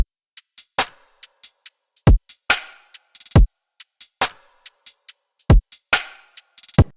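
A 140 BPM dubstep drum pattern of sharp kicks and several different snares hits in a sparse, syncopated groove, with punchy deep thumps and crisp cracks separated by silence, loud and dry with no voices.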